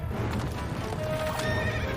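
A cartoon horse whinnies during an animated Wild West stagecoach chase, its cry sitting over a dense, steady bed of galloping hooves and rumbling action noise that fills the whole moment.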